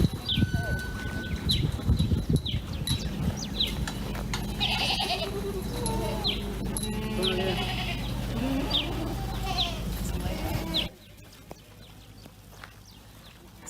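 A herd of goats pours out of their pen in the morning, with many overlapping bleats, hoof clatter and rustling at close to moderate distance, before the sound abruptly drops to a quiet background near the end.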